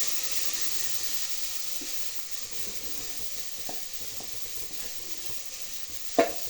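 Beef curry with elephant foot yam frying in a pan as chilli powder is stirred in, giving a steady soft sizzle with faint scraping and a sharper clink near the end, no voices.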